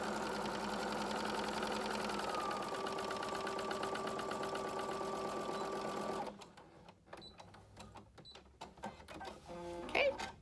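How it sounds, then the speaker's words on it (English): A sewing machine stitches a seam on a cotton gaiter with a fast, steady mechanical whir for about six seconds, close and clear, then stops and leaves a few soft handling clicks. "I'm gonna do a little back stitch and then go straight across"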